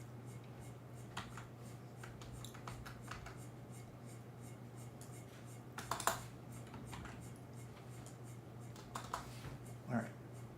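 Fingers tap out quiet, irregular bursts on a computer keyboard close by, a few sharper clacks standing out over a low steady hum.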